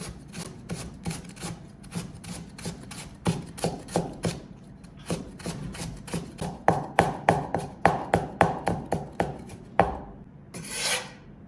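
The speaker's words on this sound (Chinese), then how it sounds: "然后呢，我们再给它切成切丝" A kitchen knife cuts peeled food into thin strips on a cutting board, with a brisk run of rhythmic, close chopping taps in short bursts and a brief pause near the end.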